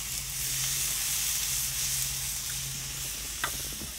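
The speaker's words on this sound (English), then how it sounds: "now we go down for that sizzle." Steady sizzling hiss of steak searing directly over hot coals on a grill, with a low hum underneath and a couple of faint clicks near the end.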